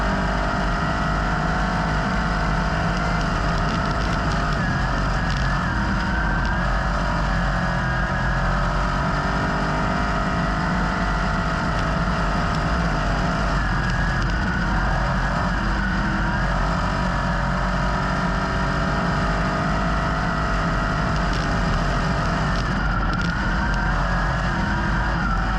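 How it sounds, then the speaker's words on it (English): A sprint car engine runs roughly during a race as the throttle is pumped, a steady loud mechanical drone with an uneven, faltering tone that continues unbroken with no speech over it. "I'm trying to pump the throttle to get the thing to go back to full speed, and now it's just not running really at all."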